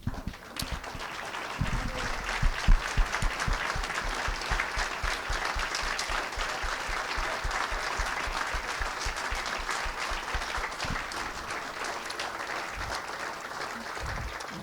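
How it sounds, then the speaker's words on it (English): Sustained applause from an audience at a chamber of commerce award celebration honoring pandemic heroes, a steady wash of many clapping hands with a few louder claps near the start. "Please stand up so we can give you a round of applause."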